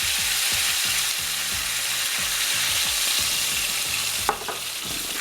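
Ice water from the fridge hissing and bubbling in a hot pan of country-style ribs, a steady loud sizzle with a busy rhythmic churn underneath and one sharp clatter near the end.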